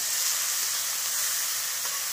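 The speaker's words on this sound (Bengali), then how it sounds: "এর উপর আমি দিয়ে দিলাম কুচানো পেঁয়াজ।" Chopped onion frying in oil with already-fried garlic gives a steady, dense hiss and sizzle, close and constant, with no voices.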